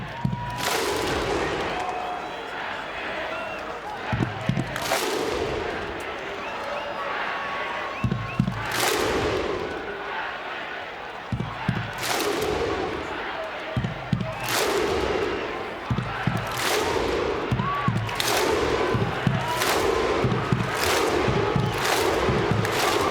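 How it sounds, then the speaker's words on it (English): Stadium crowd at GIO Stadium performing the Viking clap at a rugby league preliminary final, a series of big unified thunderous claps spaced a few seconds apart, rising in pace, over a roaring crowd and a commentator's voice. "Viking clap that rattles the foundations of GIO Stadium."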